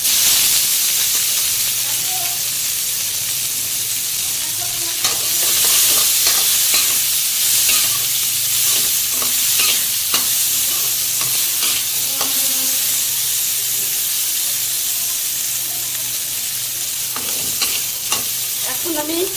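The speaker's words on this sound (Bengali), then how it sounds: "পেঁয়াজটা ভাজার জন্য একটু তেল দিচ্ছি" Onion frying in fish oil in a home kitchen, a steady hot sizzle and hiss broken by frequent scraping stirs of a spoon in the pan, close and continuous throughout.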